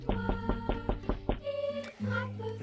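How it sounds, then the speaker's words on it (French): Knuckles rap on a wooden door in a quick series of about seven firm knocks, close and clear, followed by a resonant tonal sound as the knocking stops. "Je me tiens à la porte et je frappe."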